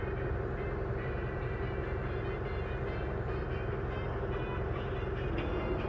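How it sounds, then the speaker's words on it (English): A combine harvester engine in Farming Simulator VR drones at raised RPM, a steady, dense mechanical rumble with no breaks. "push the throttle lever to crank up the RPM of the combine"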